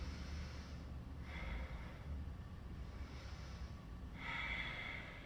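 Slow, deep breaths during a yoga pose, three or four soft inhale-exhale swells rising and fading over a quiet, steady room background.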